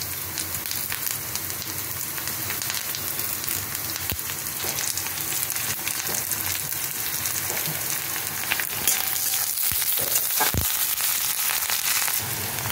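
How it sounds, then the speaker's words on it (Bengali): Onions and curry leaves fry in a pan with a dense, steady crackling sizzle like rain on a surface, and a few sharper pops and stirring knocks toward the end. "আমি এখন কারি পাতাগুলো সব এর মধ্যে দিয়ে দেবো"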